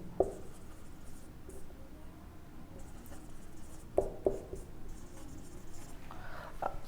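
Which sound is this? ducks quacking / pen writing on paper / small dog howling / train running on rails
pen writing on paper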